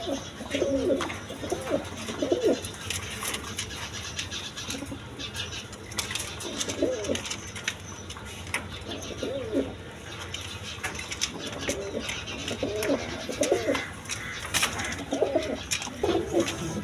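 Male pigeons coo repeatedly at a pigeon market, low rolling calls returning every couple of seconds over a constant hum of background noise and rustling.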